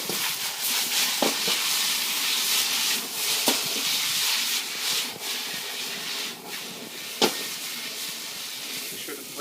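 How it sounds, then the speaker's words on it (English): Beef chow fun noodles are stir-fried in a hot wok. A steady loud sizzle and hiss carries throughout, broken by occasional sharp clanks and scrapes of the utensil against the wok. "Stir it up a little bit."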